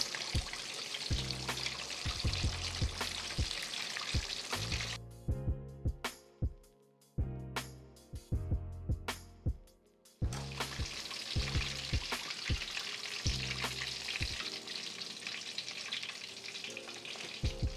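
Steak and lobster egg rolls deep fry in hot oil with a steady, close sizzle, broken midway by quieter stretches and clinking handling sounds before the full bubbling fry resumes.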